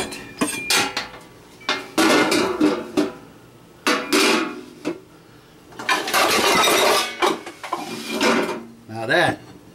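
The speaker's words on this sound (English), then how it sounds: "Let's get this thing out of the pan." A white pizza being pried and slid out of its pan, giving scrapes, clinks and knocks of metal pan and utensil in irregular bursts, close and fairly loud, with a voice exclaiming between them.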